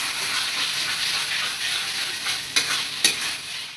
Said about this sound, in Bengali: চিকেনটা দিয়ে ভালোভাবে কষাবো।